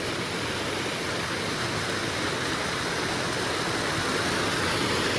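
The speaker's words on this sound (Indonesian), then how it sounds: "nah ini sungainya tetap sungai dari Curug Cileat" River water flowing down from the Curug Cileat waterfall by a remote fish pond makes a steady broadband rush, even and continuous throughout with no voices.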